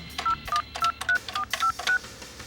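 A telephone number is dialed as a quick sequence of seven crisp touch-tone beeps, evenly spaced and close, with nothing else beneath them.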